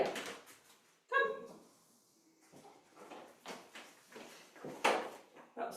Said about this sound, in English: The dog barking put me off.